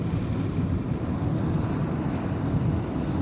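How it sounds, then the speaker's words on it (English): A plastic emergency cover fitted over a car window buffets in the airstream at about 60 miles per hour, making a loud, steady roaring rush with constant flutter and no pauses. "that's the sound of the plastic on the window"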